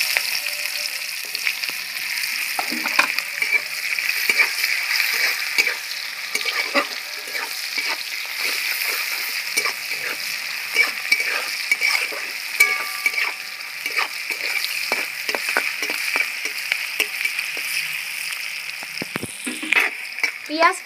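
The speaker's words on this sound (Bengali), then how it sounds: "তেজপাতা ফোড়ন দিয়ে দিচ্ছি, গোটা গরম মশলা, কুচিয়ে রাখা পেঁয়াজ" Chopped onion frying in oil with bay leaf and whole garam masala sizzles steadily in a pan, with frequent scraping and clinking stir strokes close up, no voice over it.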